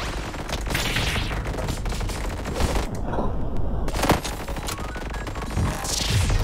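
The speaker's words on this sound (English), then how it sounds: "Guns blazing." Rapid, relentless gunfire from the game One Step From Eden, dense repeated shots pounding nonstop at loud volume with a brief gap partway through, backed by game music.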